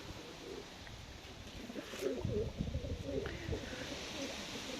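Pigeons in a loft, including a pale smoky-grey male and his crested smoky-grey hen, give soft cooing calls amid rustling and shuffling. The sounds are close but fairly quiet against a steady background hum.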